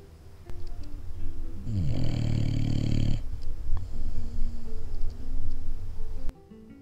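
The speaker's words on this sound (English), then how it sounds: "Everybody's going to hear your snoring on the videos, because you snore a little bit too loud." A dog snores loudly and close by in a long, rasping, rumbling breath, followed by softer, uneven breathing and snuffling.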